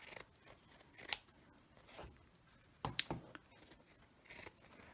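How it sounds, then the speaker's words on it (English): Pinking shears cut fabric on a table in a few quiet, crisp snips spaced about a second apart, with faint rustling between them. "I'm going to do my pinking shears again"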